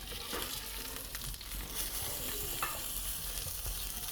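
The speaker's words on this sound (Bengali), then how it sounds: "এখানে আমি উপর করে ভেজে নিচ্ছি" Koi fish frying in oil in a pan, a faint, continuous sizzle and crackle with light stirring or turning sounds and no talking.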